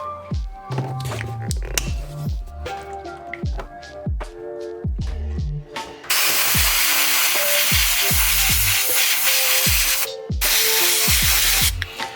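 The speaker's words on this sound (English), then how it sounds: "this I can just spray right out of my airbrush without having to thin" An airbrush sprays white ink onto a painted miniature, a steady close hiss running for several seconds with a brief pause, over background music with rhythmic beats.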